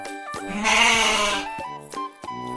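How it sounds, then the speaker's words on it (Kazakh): A goat gives a single long, wavering bleat that rises over light background music, then fades into short tonal notes. "Goat."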